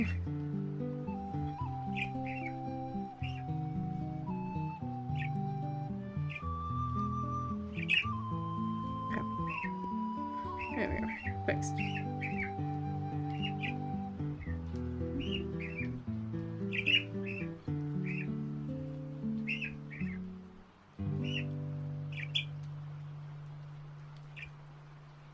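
Short pet bird squawks and chirps pop up repeatedly over steady music with sustained tones, while a person briefly speaks.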